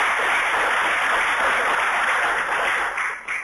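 Audience applause at an AJCC annual meeting general session, a dense, steady round of clapping from a full room that tapers off at the end.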